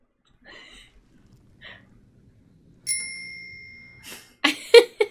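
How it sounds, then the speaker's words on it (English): A bicycle bell rings once with a sustained metallic tone that fades, followed by a few louder rattling knocks. "Ring the bell."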